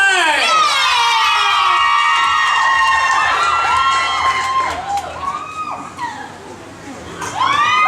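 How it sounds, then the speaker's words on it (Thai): Crowd at a lively event in Chiang Mai, Thailand, cheering, whooping and applauding in welcome, loud and dense with high shouts, dipping briefly before surging again near the end. "ขอเสียงปรบมือต้อนรับ"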